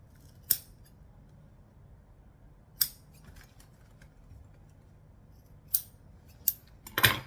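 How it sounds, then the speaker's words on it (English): Vinyl scissors snipping off the corners of a vinyl wallet piece: four or five crisp, isolated snips spaced a second or two apart, close and clear against a quiet room. "Vinyl scissors, line it up, snip it off, snip."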